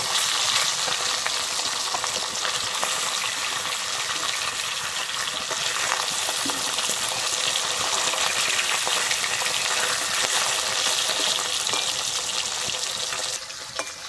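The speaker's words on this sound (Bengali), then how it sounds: "আমি মাছটা কিন্তু এখানে খুব বেশি লাল করে ভাজবো না, হালকা করেই ভেজে নেবো।" Paresh fish frying lightly in hot oil for a curry with aubergine and lentil dumplings, a steady close bubbling sizzle that runs evenly and fairly loud throughout before easing off at the very end.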